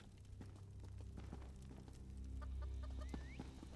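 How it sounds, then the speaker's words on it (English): Chickens cluck softly in The Elder Scrolls Online, a quiet, scattered series of short clucks under a low, steady ambient hum, with a brief rising call near the end. "I hear things outside. Chickens."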